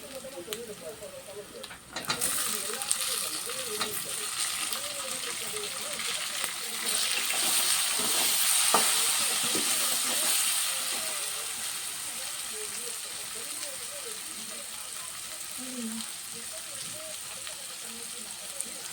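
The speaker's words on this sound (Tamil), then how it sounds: "அந்த இஞ்சி பூண்டு பேஸ்ட் வாசனை போகிற வரைக்கும் நல்லா வதக்கலாம்." A soft, steady sizzle of ginger garlic paste sautéing in a pan, with occasional stirring and a voice talking over it.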